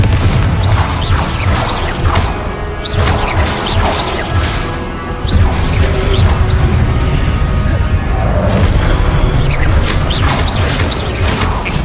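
Hogwarts Legacy spell combat with the Confringo explosive curse, a steady run of loud crashing blasts and impacts layered over dense game noise, with sharp bursts recurring throughout.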